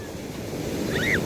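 Ocean surf rolls at a beach in a steady, broad wash mixed with wind buffeting the microphone, with a brief faint high cry near the end.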